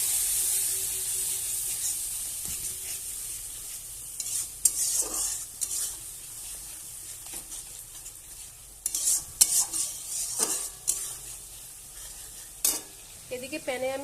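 A spice paste loosened with a little water is sautéed in a pan for a fish and potato curry, with a soft sizzle under repeated scraping and stirring strokes that grow busier toward the end.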